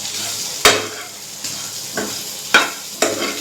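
Potato masala with urad dal is stirred in a pan, with four or five sharp spoon scrapes and knocks against the metal over a soft background sizzle.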